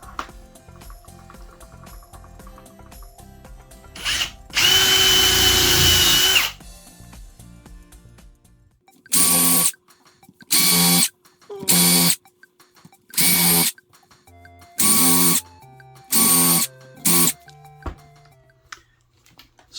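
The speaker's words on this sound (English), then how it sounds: "We've got our drill with the countersink drill bit" A power drill fitted with a countersink bit drills screw holes, with one longer whining burst followed by about six short, loud bursts of drilling separated by brief pauses.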